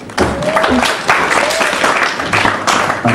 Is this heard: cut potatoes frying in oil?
no